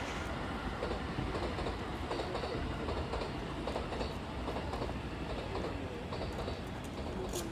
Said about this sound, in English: There's a musical rhythm to those local trains he told me about.